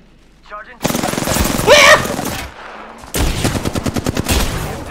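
Gunfire from the video game Apex Legends, a dense burst of rapid automatic shots rattling behind excited talk and a shout, then a second stretch of loud repeated firing later on.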